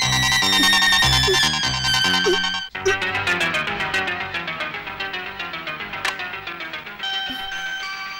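A telephone ringtone plays loudly in a film scene as a bright, repeating melodic tune with steady pulsing notes, continuous throughout and without speech.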